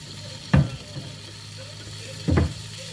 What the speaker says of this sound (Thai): ผัดไปเรื่อยๆเนาะจ้าผัดให้หมูสุกเนาะ